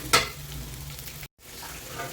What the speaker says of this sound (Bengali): মরিচ পরিমাণ মতো, হলুদ, জিরা, ধনিয়া, এটাকে ভালো করে কষাতে হবে